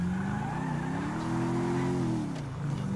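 A car accelerating in GTA 5, a steady engine drone whose pitch rises and then dips as it shifts, with faint tire noise, continuous and fairly close, without talk.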